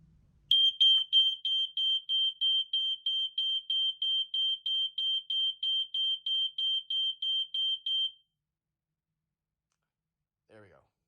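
A home smoke alarm testing its photoelectric chamber gives a rapid run of sharp, shrill beeps. They pulse steadily for about eight seconds at close range, then stop, and a short faint sound follows near the end.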